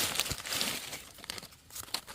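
Thin plastic bag wrapped around freshly picked wild amanita mushrooms in a deep forest, crinkling and rustling in quick, close bursts with no talking.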